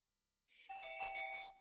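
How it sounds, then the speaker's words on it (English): An IQ security kit sensor set as a doorbell gives a single bright electronic chime, clear and close in a quiet room, ringing out and holding briefly before fading. "Now you've got a set doorbell chime"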